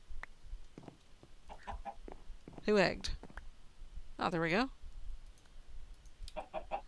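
Chickens in the Minecraft modpack Agrarian Skies give two clear, synthetic game clucks a second or so apart, alongside faint clicking. Someone talks briefly over the game sounds.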